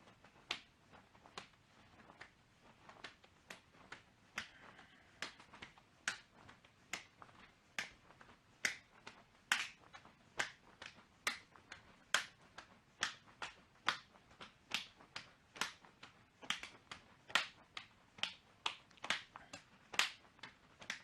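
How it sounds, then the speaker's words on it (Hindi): Hands clap overhead in a steady, repeated rhythm during jumping jacks in a women's self-defense exercise session, roughly two faint, distant claps per second continuing throughout. "हम दोनों पैरों को जंप के साथ खोलेंगे और हाथों से ऊपर की तरफ ताली बजाएंगे"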